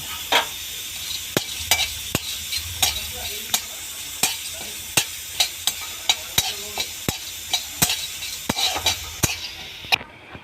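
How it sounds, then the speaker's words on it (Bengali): Cardamom, cloves and cinnamon frying in a wok, a soft steady sizzle punctuated by about twenty sharp scrapes and taps of a spatula against the pan at an irregular pace, close and without talk. "এবারে আমি এলাচ, লবঙ্গ আর দারচিনি এগুলো আমি কড়াইয়ের মধ্যে একটু ভেজে নেব।"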